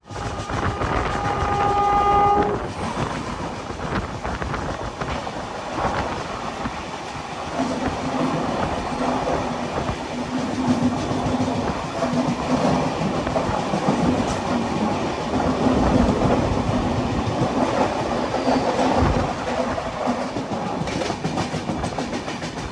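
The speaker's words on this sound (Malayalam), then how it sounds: "ഇപ്പോൾ ഒരു ട്രെയിൻ ഇതുവഴി കടന്നു പോകും." The Kochuveli–Chandigarh Sampark Kranti train rumbles past nearby near Ernakulam Town station with a continuous heavy roar and rhythmic clatter of wheels, a horn-like tone sounding briefly at the start.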